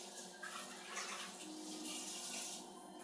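Tap water runs steadily into a sink while fresh ginger is rinsed by hand, a continuous splashing hiss with gentle surges and no talking.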